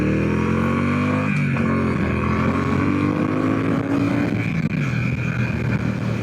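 A Brixton Cromwell 1200 motorcycle accelerates hard from a standstill to 100 km/h. Its loud engine drone climbs in pitch through the gears, with brief dips at the shifts. It is heard up close and alone, with no voices.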